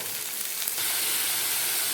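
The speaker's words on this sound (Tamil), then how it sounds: "வெங்காயம், கருவேப்பிலை ரெண்டும் சேர்த்து நல்லா தாளிக்க போகிறோம்" Onions and curry leaves sizzle in hot oil for a pumpkin stir-fry, a bright steady hiss that jumps louder partway through and then holds, close and continuous.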